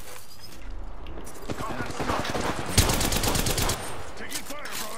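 Video-game gunfire comes in rapid automatic bursts and rattling volleys, loud and close, with shots overlapping. A player's voice is heard alongside it.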